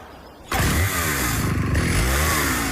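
Husqvarna XP chainsaw engine starting up loud and close, jumping from quiet to a steady high-revving roar that holds for over two seconds.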